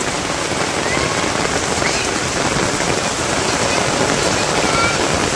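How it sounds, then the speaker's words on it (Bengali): Rain pouring down in a Bangladeshi village, a loud, constant patter and hiss of drops striking surfaces close by, steady from start to end. "অনেক দিন পরে এত সুন্দর বৃষ্টি দেখাইলাম আমি।"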